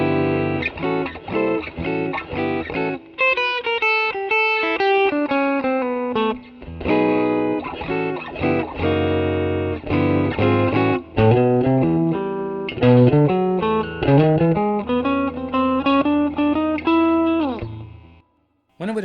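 Telecaster electric guitar on the bridge pickup with the tone turned all the way up, playing a run of bright picked single notes and short phrases, clean to lightly driven, loud and alone before stopping abruptly.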